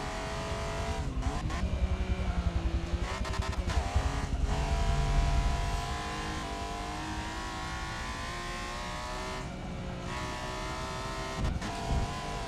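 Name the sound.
supercharged car engine accelerating in Forza Motorsport video game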